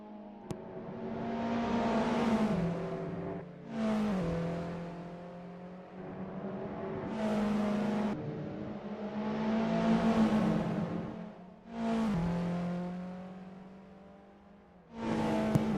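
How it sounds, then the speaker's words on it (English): Race car engines in a Formula Alfa racing video game wail and rev in repeated surges, each climbing and dropping as cars rush past, loud and continuous with no talking. "I think I just heard the sound of a car coming to a bit of a stop there"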